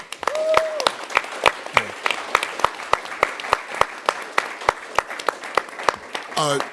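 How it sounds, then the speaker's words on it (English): A civic engagement gathering's audience applauds a professor, with loud, regular sharp claps standing out over a softer crowd clapping, and brief voices heard near the start and end. "Please give him a round of applause."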